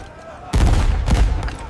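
A musket and cannon volley erupts in a reconstruction of 1670s Spanish St. Augustine, Florida: a sudden loud booming blast, a second heavy report a half-second later, then scattered crackling shots trailing off.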